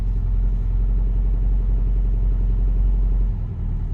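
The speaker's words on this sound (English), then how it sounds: "So that's a completely cold start" A cold 1988 Lotus Esprit Turbo (Stevens X180) idles on choke with its throttle jack engaged, a steady low rumbling engine drone throughout, dipping slightly near the end.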